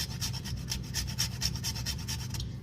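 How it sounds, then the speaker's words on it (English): A whole nutmeg seed is scraped over a pot in quick, even rasping strokes, about a dozen close, soft scratches in a steady rhythm. "So I'm just going to scrape in a little bit of my nutmeg into it."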